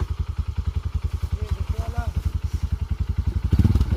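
A Honda CRF dirt bike engine runs close by with a fast, steady single-cylinder thump, rising in level near the end as it's revved; people talk over it.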